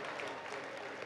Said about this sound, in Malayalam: കൈയടിച്ചേ, നന്നായിട്ട് കൈയടിച്ചേ.